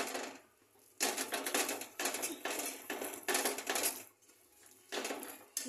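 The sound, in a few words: mixing besan (gram flour) in a pot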